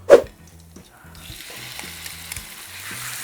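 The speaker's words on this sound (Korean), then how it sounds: "불 확 올려주시고 세게 이 상태로 한번 볶아 보겠습니다" Meat for Vietnamese bun cha stir-fried in a pan over high heat, opening with a sharp clang, then a rising, steady sizzle and hiss with light rhythmic clatter from the stirring.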